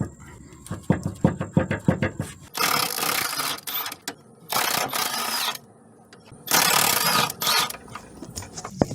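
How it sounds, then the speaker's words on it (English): Worn, very bad sway bar bushings on a car clunk in a quick series of sharp knocks, followed by loud rattling bursts of mechanical noise separated by short quiet gaps, close and clear. "very bad sway bar bushings."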